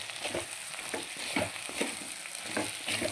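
An aubergine, potato and bean fry with chilli powder, onion, poppy seeds and salt being stirred in a pan, with soft scraping strokes over a low, continuous sizzle.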